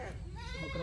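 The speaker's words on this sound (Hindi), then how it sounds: "ये वो बकरा चेक कर, माशाल्लाह ब्लैक कलर का।" A young goat at a livestock market gives a short, wavering bleat that is close and fairly clear, with low background noise underneath and other voices nearby.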